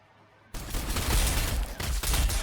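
Gunfire bursts out from the Astra Militarum side in Warhammer 40,000: Sanctus Reach. After a short near-silence it turns into a loud, dense fusillade of overlapping shots that carries on to the end, with a few short dips in between.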